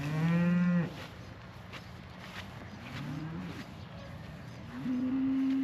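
Cattle on a farm during calving season, with heifers and cows nearby: three loud, drawn-out moos close to the listener, separated by quieter barn noise.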